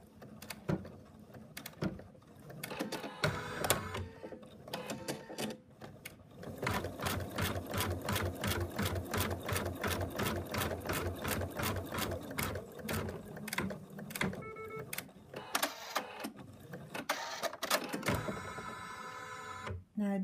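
An embroidery machine stitches a basting placement line for the muzzle of a teddy bear design, its needle hammering in a fast, steady mechanical rhythm with brief pauses between runs, close and alone.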